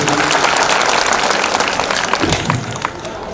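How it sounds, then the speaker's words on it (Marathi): Loud, dense applause from devotees at a Guru Purnima festival gathering at Shivtekdi, steady clapping that fills the whole clip and eases slightly toward the end. "अगदी सुंदर जोरात टाळी वाजत त्यांच्यासाठी"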